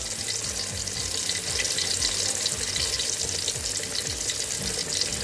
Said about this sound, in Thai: เราจะทำการทอดด้านล่างให้เหลืองก่อนนะคะ แล้วถึงจะค่อยพลิกกลับค่ะ